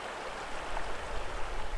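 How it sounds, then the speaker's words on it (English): A clear river runs below an upstream dam in winter countryside, a steady soft broadband rush of flowing water, moderately distant and fairly faint, with no voices. "The river level fluctuates a lot because of the dam upstream, but it always runs pretty clear."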